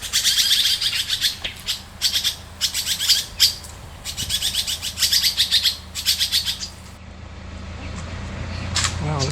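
Agitated honeyeaters call at a barking owl, repeated bursts of sharp scolding chirps coming in rapid clusters, loud and close, tapering off toward the end.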